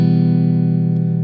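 UJAM Virtual Guitarist Cinedream virtual guitar on its softest character setting gives a steady, mellow sustained tone, dense with low harmonics, ringing alone at an even loudness.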